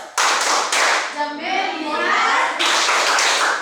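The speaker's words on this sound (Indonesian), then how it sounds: "Tepuk fokus." A classroom of young children doing a rhythmic focus clap, sharp grouped hand claps close by, broken in the middle by the children chanting in unison before the clapping resumes.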